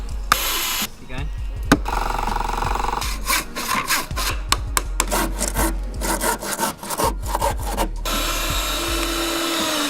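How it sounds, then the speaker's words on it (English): A handsaw cross-cutting wood in a woodland studio, with repeated rasping push-pull strokes at a steady rhythm, loud and close, a brief pause partway through. "Cross cuts always with a handsaw."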